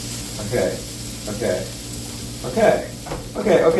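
Food sizzles in a pan that still holds plenty of oil during home cooking, a steady crackle with louder surges that come and go while a person talks over it.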